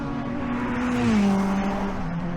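Saloon race cars at the Kirkistown circuit roaring down the start-finish straight, a steady loud engine drone with a rising and falling pitch as cars pass close by, no talk over it.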